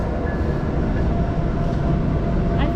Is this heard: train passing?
yes